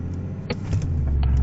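A 4x4 off-road car's engine rumbles low and heavy as it accelerates in second gear on a rough rally track, the drone building slightly in loudness while a few sharp clunks and knocks break through.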